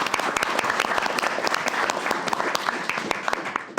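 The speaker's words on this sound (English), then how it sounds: "Give me a round of applause" Audience at a city council meeting applauding in a sustained, dense burst of clapping that holds steady at moderate loudness, with little talk.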